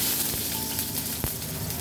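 Long-sliced onions sizzle steadily in hot oil in a pan, a dense continuous frying hiss with a brief stirring clatter partway through, no talking.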